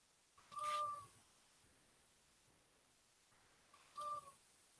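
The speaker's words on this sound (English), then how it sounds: "You're my cat. She's being very vocal today." A pet cat named Bubbles lets out two drawn-out, vocal meows a few seconds apart, moderately loud and close in a quiet room.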